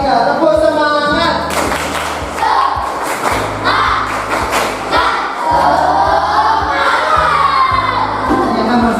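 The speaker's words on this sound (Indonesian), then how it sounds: "mari kita tepuk semangat dulu. 1, 2, 3, tepuk semangat" A class of children does a rhythmic spirit clap, stamping and clapping in a patterned beat with loud thumps, while the kids shout and cheer together over the rhythm.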